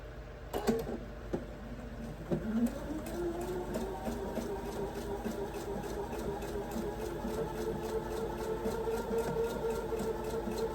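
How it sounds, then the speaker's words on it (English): A home sewing machine stitches a gingham quilt block corner to corner, running as a steady, quiet mechanical whir with a regular rapid ticking rhythm after a few brief starts. "then I'm going to sew corner to corner here."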